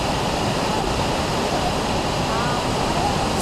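Rushing water pours in a dense, continuous hiss, close and loud, steady from start to finish with no breaks or other sounds on top.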